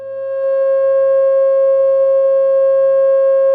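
A steady pure tone pitched at 540 Hz, tied to a pentagon, rises briefly in loudness and then holds evenly, loud and alone, with faint overtones and no voices.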